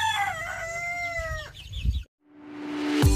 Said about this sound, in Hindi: और मैं मुर्गे को गेहूँ डाल रही हूँ।